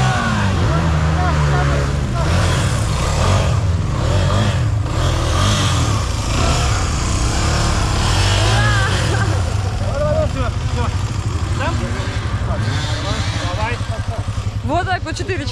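An old Japanese enduro motorcycle revs hard and steadily while four people haul it out of a deep rut at an amateur race, its engine loud and close under shouting voices.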